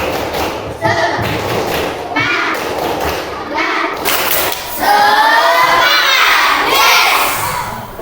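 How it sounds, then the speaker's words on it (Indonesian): Elementary schoolchildren in a classroom perform a rhythmic clapping chant, with loud group claps and thumps in patterned bursts, interspersed with their shouted voices and growing into a louder chorus near the end. "1, 2, 3, tepuk semangat."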